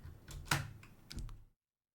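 A computer keyboard typing subtitle text, heard as a quiet flurry of close key clicks in two short bursts, then silence.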